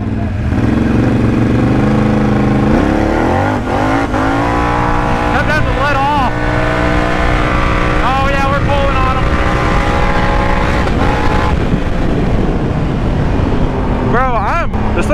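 Two Can-Am Outlander ATVs, a 2020 and a 2021, race through mud, their engines loud and close, revving hard with rising and falling whine as throttle changes, and voices heard over the din.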